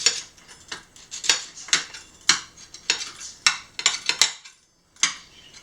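A pizza cutter slicing bacon into small pieces on a hard surface for an omelet, giving a steady run of crisp clacking cuts and scrapes in a quick irregular rhythm, close and fairly loud, with no voices.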